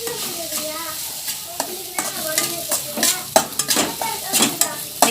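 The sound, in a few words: stirring puffed rice upma in a pan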